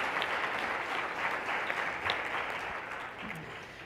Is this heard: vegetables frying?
no